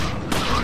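A single gunshot in Resident Evil 4 VR, in the ruins: one sharp, loud blast about a third of the way in, followed by a short decaying tail over quiet game ambience.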